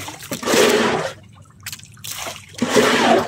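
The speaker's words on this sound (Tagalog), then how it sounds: "Panay tagas ng aming krudo. Tangke, butas." Diesel fuel leaks from a punctured tank on a fishing boat, dripping and splattering in short bursts with brief quiet gaps between them.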